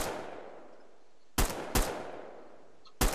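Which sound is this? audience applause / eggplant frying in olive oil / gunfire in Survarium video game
gunfire in Survarium video game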